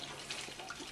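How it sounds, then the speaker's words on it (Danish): Liquid pours out of a container in a short steady splashing stream, close and fairly faint, with no voices. "Jeg prøver at hælde lidt ud af den der."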